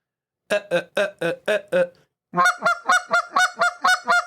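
A hand-held goose call imitates honking geese: six sharp honks, a pause, then a faster run of about eight honks, close and loud.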